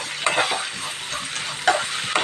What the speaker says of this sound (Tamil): இந்த வெங்காயம் தக்காளியை நல்லா வதக்கி விடணும்